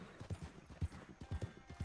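Horse hooves in Red Dead Redemption 2 clop in a quick, uneven galloping rhythm, close and distinct, with a brief whinny-like tone among the footfalls.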